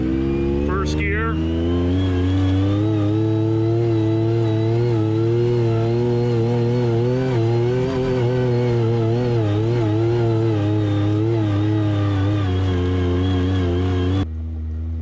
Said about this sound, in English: Now we got her in four-wheel drive, so let's try going up a hill here.